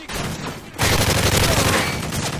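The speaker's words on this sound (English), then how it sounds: "That's an AK." Bursts of AK rifle fire in the video game Modern Warfare 3, a loud rapid volley of cracking shots that erupts after a quieter stretch and keeps rattling near and dense.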